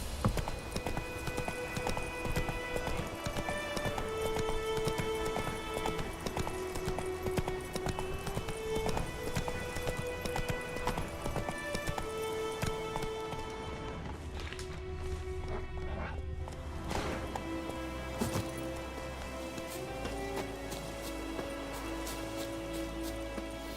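Hooves of Roach, Geralt's horse in The Witcher 3: Wild Hunt, clop in a fast, steady galloping rhythm under ambient game music, continuing for over twenty seconds at a soft, even level.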